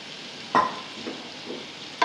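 Vegetables sautéing in oil for masale bhat give a soft steady sizzle, broken by a few clinks of a spoon against the pan as they are stirred.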